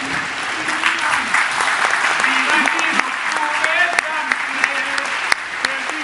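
Theatre audience applauding at a sold-out comedy show at the Teatro delle Muse in Ancona, a steady broadband wash of clapping with some voices and tonal sounds mixed in, fairly loud throughout.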